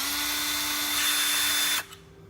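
Power drill running steadily at low torque to remove screws from a geared motor before greasing, a close whirring buzz that stops abruptly near the end.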